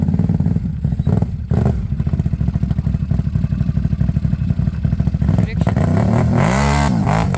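An ATV on Apache Backcountry tracks drives through deep snow, its engine chugging loudly and rhythmically close by, then revving hard toward the end, with voices talking over it.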